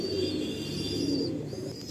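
Restless Andhra pigeon held in the hand at a Kolkata loft, giving a soft, low, close coo against faint background noise.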